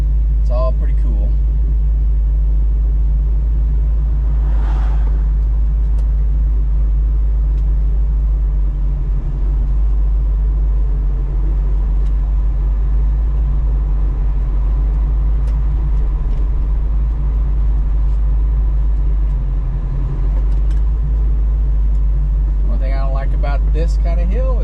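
Cruise cars climbing a hill during a car cruise fun run, heard as a heavy, continuous engine rumble from inside a car, with a voice talking over it throughout.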